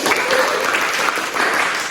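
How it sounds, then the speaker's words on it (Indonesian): Loud, dense clapping from a classroom of students at a microteaching competition, a steady burst of applause lasting under two seconds with no talk over it. "Kita beri tepuk tangan lagi"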